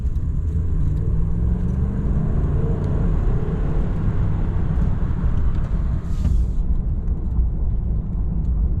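Low, steady road rumble from a Ram 1500 pickup driving at speed, suspected of a wheel bearing fault, a continuous droning hum heard from inside the cab with no talking.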